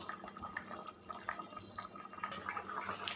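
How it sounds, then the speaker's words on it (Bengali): Bengali fish curry (macher jhol) boils in a pot, giving a steady, close bubbling with scattered small pops and splutters. No one speaks. "মাছের ঝোল আমার ফুটে গেছে"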